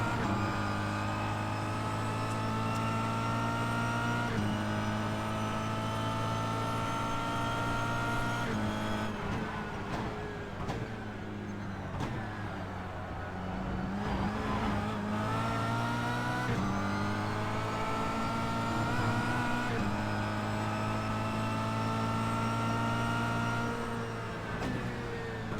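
A Kia race car in a Kia Cup race at Interlagos, its engine droning and revving close up with repeated gear shifts that drop and climb in pitch, loud and continuous throughout.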